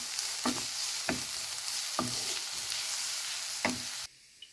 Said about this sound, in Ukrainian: Не забуваємо перемішувати нашу засмажку.